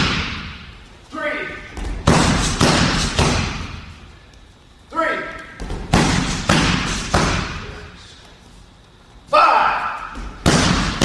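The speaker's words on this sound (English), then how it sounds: "Notice he's kicking so hard he's coming off the ground." Hard martial arts kicks slam into a held pad in repeated loud, heavy thuds, grouped in bursts, while a coach talks and counts aloud between the strikes.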